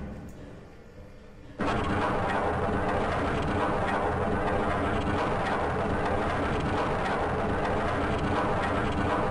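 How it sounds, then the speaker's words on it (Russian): Train in Half-Life: Blue Shift: after a quieter opening, a loud, steady rumbling roar kicks in abruptly and continues without letup, like a rail car rolling close by. "Ну, типа поезд."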